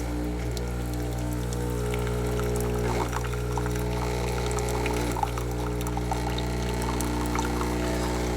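An Illy Y5 capsule espresso machine dispensing hot water from its separate spout: a steady, close pouring splash over a constant low pump hum.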